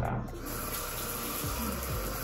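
Tap water runs steadily into a sink while hair is being brushed, a continuous close splashing flow lasting throughout with no pauses.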